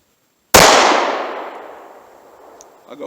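A single sharp, loud shot from a Ruger Security 9 9mm pistol at an outdoor range, followed by a long fading ring and then near silence, with a faint rattle at the end.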